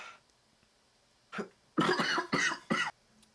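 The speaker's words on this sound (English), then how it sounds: "I apologize for the coughing fits." A brief throat-clearing cough followed by a burst of several harsh, close coughs in quick succession, with quiet moments around them.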